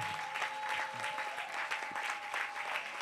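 A church congregation at a Sunday service breaks into steady applause, a dense, even patter of many hands clapping at moderate volume for a few seconds.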